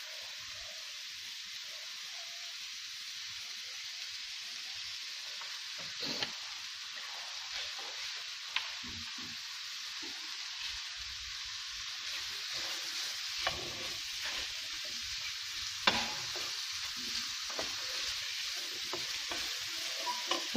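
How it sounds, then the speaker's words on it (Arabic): Crêpe stuffing frying in oil in a pan, a continuous close sizzle with occasional scrapes and knocks of stirring, no voices. "دونك ها هي لافارس هي تطيب"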